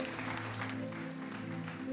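A church congregation applauds its pastor, steady dense clapping from a crowd that fills the whole moment at an even level, with a sustained tone from the hall's sound system running underneath.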